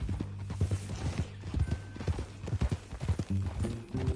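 Horse hooves clip-clop in an uneven walking rhythm nearby in Red Dead Redemption 2 on PS4, with a low hum of background sound.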